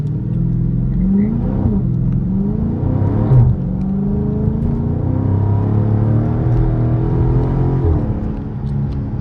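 A 2023 Dodge Charger Scat Pack Last Call in track mode, its engine revving loudly from inside the car and rising through the gears with brief dips at each shift, a deep continuous rumble.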